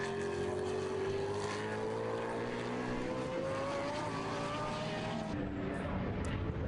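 GT race cars, including a BMW Z4, roar past through a right-hand corner at Silverstone during a Blancpain Endurance Series race, engines loud and close with a steady droning pitch that sweeps slowly as the pack goes by.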